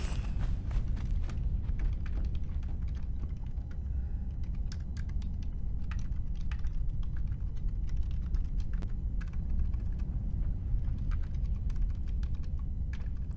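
Steady, fast computer keyboard typing runs throughout: a dense patter of close, crisp key clicks over a constant low background hum, with no talking.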